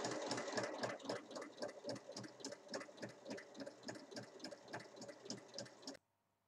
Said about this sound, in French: Je commence à piquer dans la couture sur le côté.